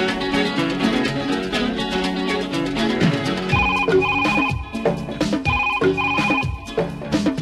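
A telephone ringing on an All India Radio Aurangabad phone-in request show, a repeated electronic ring in short bursts over a dense musical background, fairly loud.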